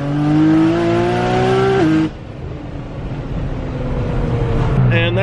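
A loud turbocharged V6 sports car engine revs hard with a rising tone while accelerating, then cuts off abruptly and drops to a lower rumble before climbing again near the end.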